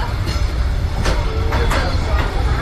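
A passenger train rolls by with a steady low rumble and several sharp clacking bursts from the wheels, fairly close.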